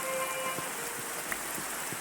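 Steady rain falling at night in a magic-themed video game, a continuous soft hiss of drops on surfaces with no talking.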